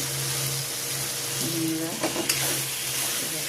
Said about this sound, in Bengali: এখন মশলাটা কষা হচ্ছে